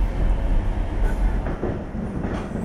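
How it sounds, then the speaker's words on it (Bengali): A superfast express train rumbles steadily along the rails, heard from on board, with a low continuous roar and faint rhythmic clatter, loud and close. "সুপারফাস্ট ট্রেন ছুটল নির্দিষ্ট রেলপথে।"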